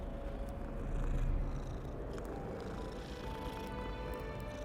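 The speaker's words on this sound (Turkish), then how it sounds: "Kediyi sevdik ama." A cat in Hogwarts Legacy purrs after being petted, a steady, close, rumbling purr that swells briefly and then holds level, with no talk over it.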